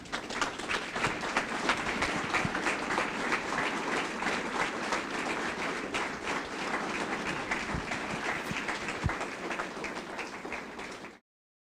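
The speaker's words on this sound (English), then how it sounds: "give a warm welcome and applause to Mr. Gary Pyatt." An audience at a Veterans Day gathering claps warmly for a guest, steady dense applause sustained for about eleven seconds before stopping abruptly, heard without speech.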